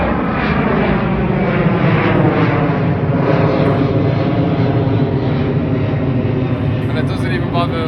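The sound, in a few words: airplane flying over a golf course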